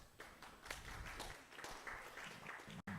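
Round of applause from a small audience at a tech meetup in Brussels, Belgium: a moderate, dense wash of clapping lasting a few seconds, with a brief dropout near the end and murmured voices underneath.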